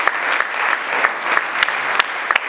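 A church congregation claps in a dense, continuous round of applause, with a few sharper individual claps standing out close by throughout the brief burst.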